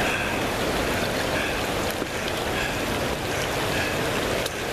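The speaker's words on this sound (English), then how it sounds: "See this running water coming?" Running water flows along a rocky creek bed that serves as a hiking trail, making a steady, close rushing and gurgling with no voices over it.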